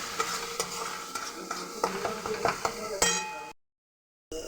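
Spiced banana flower with turmeric and salt is stirred in a pan, with repeated scraping and clinking strokes over a gentle sizzle, then a sudden cut to silence before the sound briefly returns.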